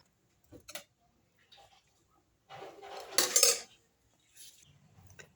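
Garlic rice tipped from a cooking pot onto a plate, with several short metallic scrapes and clinks of a spoon against the vessel, a louder burst in the middle, close and clear with no talking.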